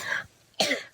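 Two close coughs a half second apart, the second harsher and louder, with silence between.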